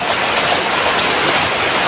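Heavy rain pours down in a dense, loud, unbroken hiss of drops striking the ground and nearby surfaces.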